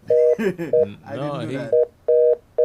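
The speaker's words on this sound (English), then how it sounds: "I think he hung up the phone." A telephone line tone follows a caller hanging up during a radio call-in, sounding as repeated loud steady beeps in short bursts, interleaved with a man's speech early on.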